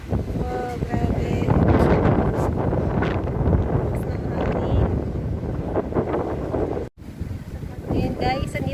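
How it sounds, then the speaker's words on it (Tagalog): Strong sandstorm wind in Dammam, Saudi Arabia, buffeting the microphone with loud continuous rushing and roaring gusts, with people's voices faintly mixed in and a brief dropout near the end. "sobrang lakas ng hangin. Ganito mag-sandstorm dito sa Saudi"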